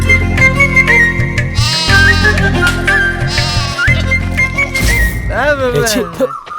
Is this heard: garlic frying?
no